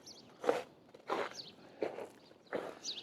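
Four crunching footsteps on snow in Central Park, New York, fall at an even walking pace, each a soft, close crush with quiet gaps between and no talking.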